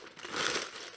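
A plastic bag of Lego pieces for the Lego Porsche 911 set 10295 crinkles and rustles close up for about a second, a soft continuous scratchy crackle with no talking.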